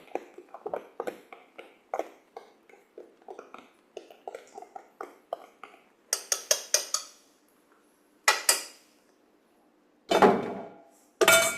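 Rice stir-fried in a pan with vegetables, eggs and garlic: a run of quick metal spatula scrapes and clinks, then a few louder, longer clattering bursts, close and with no talking.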